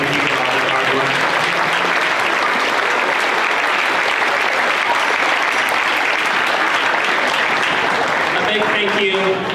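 An audience at a school Christmas concert claps in a dense, sustained round of applause that fills the hall at full volume.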